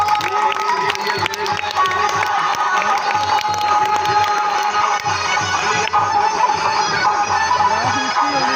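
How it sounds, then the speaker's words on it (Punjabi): A crowd at a village fair street show in Punjab claps and cheers: a dense, loud, continuous wash of applause, shouts and overlapping voices runs throughout, with people talking and calling out. "ਮਾਰੋ ਹਤਾੜੀ ਹੁਣ"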